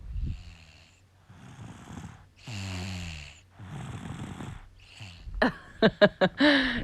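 Soft, rhythmic snoring from a sleeping baby girl, close by, with breathy inhales and a few sharp snorting snuffles at the end.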